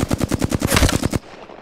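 A rapid burst of automatic gunfire in Apex Legends, about a dozen evenly spaced loud shots over roughly a second, then stopping abruptly into a quieter tail.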